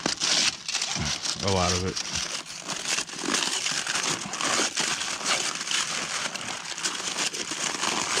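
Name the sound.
unwrapping a bag of ice wrapped in tin foil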